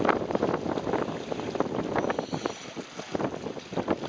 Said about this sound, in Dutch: De wind begint op te steken.